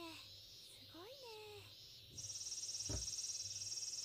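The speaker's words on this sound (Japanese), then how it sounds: "セミの声、すごいね。" Shrill, rapidly pulsing cicada drone in a summer scene of the Steins;Gate anime, entering partway through and continuing loud and steady, with brief voices and a thump heard before it.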